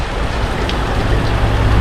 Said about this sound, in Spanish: es muy constante la lluvia